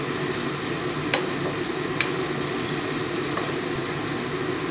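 Chicken seasoned with garlic and onion powder is stirred around a pan, giving a steady, close frying sizzle with a few light scrapes and taps of the utensil against the pan.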